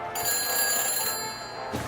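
A telephone rings in the Back to the Future video game after a number is dialed, a steady continuous ring lasting almost two seconds, loud and close.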